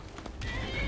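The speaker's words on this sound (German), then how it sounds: "Oh, mein Pferd kommt." A horse neighs in a short whinny in the video game Skyrim, with hoof clops and a faint digital background, fairly quiet and brief.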